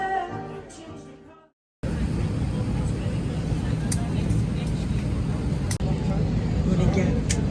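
A steady, loud roar of jet engines fills the cabin of an airliner in flight. It follows a short burst of music that cuts to a moment of silence, and a person talks over the engine drone.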